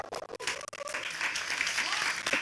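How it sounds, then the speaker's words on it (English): An audience at a cannabis control board meeting claps in a steady round of applause that swells and holds, close and moderately loud, with a few voices mixed in. "Let's hear another round of applause"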